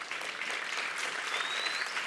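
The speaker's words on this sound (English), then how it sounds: "yes, clap for yourselves" An audience at a speech on public education claps steadily, a dense patter of many hands filling the room for a couple of seconds.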